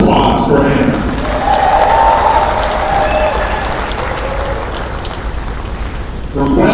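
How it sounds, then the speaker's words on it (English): Crowd applause rings out at a college volleyball match in a gym, a sustained wash of clapping that swells and fades while an announcer speaks over it. "One more round of applause for Hannah."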